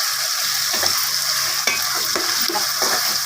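Chicken biryani masala is stirred in a pot, repeated scraping strokes of a spoon over a loud, constant sizzle, close up with no talking.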